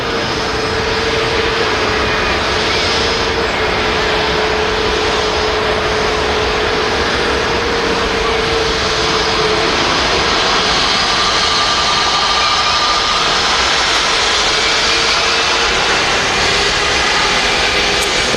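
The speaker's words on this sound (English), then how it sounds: "There's takeoff thrust." Airliner jet engines at takeoff thrust at Manchester Airport, a loud continuous roar with a steady whine, holding strong for the whole stretch with no talk over it.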